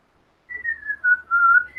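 Someone whistles a thin, wavering tune on a recorded video, a short series of clear sliding notes heard alone against silence.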